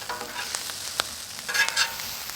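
Ham fried rice sizzling at medium heat on a Pit Boss Deluxe griddle, a steady close frying hiss broken by sharp scraping and stirring clicks from a spatula.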